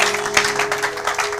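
Congregation applauding in a church service, a dense, steady wash of clapping from many hands throughout, fairly loud, with a sustained tone underneath.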